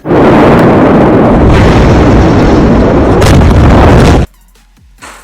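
A loud, sustained blast roars for several seconds, then cuts off sharply to near silence.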